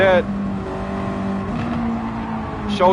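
A rear-wheel-drive race car in a sim racing game revs and holds a steady engine drone with rising and falling pitch, and tire squeal appears at the start and end; someone talks over it.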